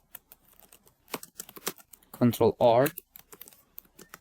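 Keys tapped on a computer keyboard during an MS Word lesson, a quick irregular run of close clicks that continues before and after a short spoken phrase.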